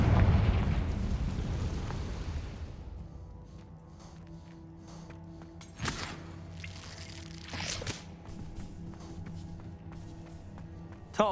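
A Confringo spell explosion in Hogwarts Legacy, starting as a loud roaring burst that slowly fades into a rumbling tail, followed by a few sharp pops and impacts with a quiet musical background.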